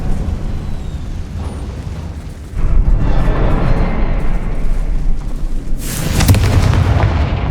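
A Confringo explosive spell bursting in Hogwarts Legacy, heard as a loud, heavy boom with rumbling debris that sustains for several seconds, followed by a second crackling burst near the end.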